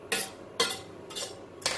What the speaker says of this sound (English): Haluin ko lang maigi para hindi ko mahapit yung manok at hindi masunog.